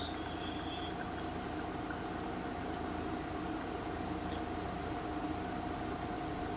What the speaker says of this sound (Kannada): ಸಿಮ್ಮಲ್ಲಿ ಇಟ್ಕೊಂಡೆ ಫ್ರೈ ಮಾಡಬೇಕು ಇದನ್ನು